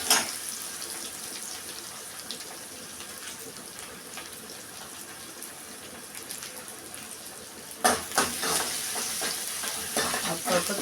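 Onion sautéing in a pan for raagi kali gravy, heard as a soft continuous sizzle with scattered scraping stirs, growing louder and busier near the end.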